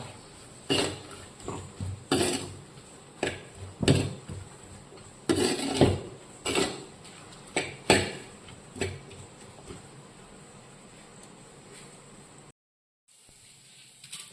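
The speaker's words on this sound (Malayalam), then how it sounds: "ഇതെല്ലാം കൂടി ഇട്ട് നമുക്ക് ഒന്ന് വഴറ്റി വരണം" Ginger, green chillies, dried red chillies and onion being sautéed in a pan for a prawn curry in coconut milk, heard as a series of sharp metal spatula scrapes and clanks against the pan at an irregular rhythm, with no voices.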